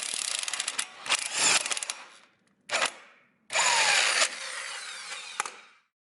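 An impact gun drives a spring compressor on a 10th-generation Honda Accord during a lowering spring install, giving a few short, sharp bursts of rattling hammering separated by pauses, fairly close in a quiet workspace.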